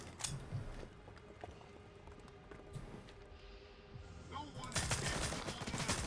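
AR416 rifle firing armor-piercing rounds in the video game Stalker 2, a run of sharp bursts scattered across the clip that grows into heavier sustained fire near the end, with faint footstep-like clatter between shots.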